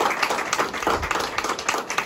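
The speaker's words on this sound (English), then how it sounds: "I want to give them a round of applause" Applause from an audience at a survivors' centre grand opening, a dense patter of many hands clapping steadily and fairly close throughout.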